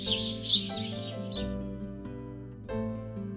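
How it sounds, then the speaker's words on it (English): Birds chirping as a sound effect in a children's read-along book, a few quick high tweets at the start over gentle background music. "They will be birds."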